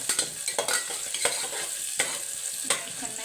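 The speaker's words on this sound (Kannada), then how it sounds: "ಚೆನ್ನಾಗಿ ಫ್ರೈ ಆಗಬೇಕು ಈರುಳ್ಳಿ." Onions fry in a pan for spicy veg pulao, a bright sizzle broken by a series of quick spoon scrapes and taps against the pan.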